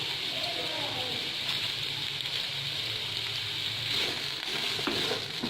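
Carrots with sugar sautéing in a pan for Kabuli pulao, a steady soft sizzle and frying hiss with faint stirring, constant throughout.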